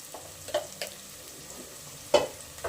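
A pan frying with turmeric and salt for tomato bath, a soft sizzle with a few brief spoon scrapes and stirring knocks, one sharper clack near the end, fairly quiet and with no voice.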